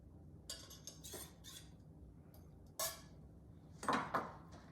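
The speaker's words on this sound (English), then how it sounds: "make sure you scrape the knife after" Kitchen utensil sounds while making egg pie: a few short, faint metallic scrapes and clinks of a knife being wiped clean, scattered in separate bursts against a quiet room.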